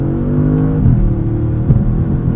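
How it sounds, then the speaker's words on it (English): A 2016 Audi S7 driving hard around a corner on winter tires, a steady close engine drone with a slight shift in pitch, heard from inside the car. "Right around this corner, you know, that sport differential just bring us around."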